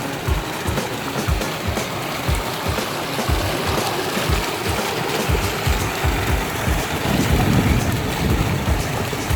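Water gushes steadily from a solar-powered 15 hp monoblock pump with a 5-inch delivery pipe at a tube well, a loud continuous splashing rush that holds throughout.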